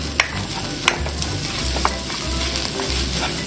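Onions sautéing in a frying pan, a steady loud sizzle with a few sharp clinks of a utensil stirring against the pan.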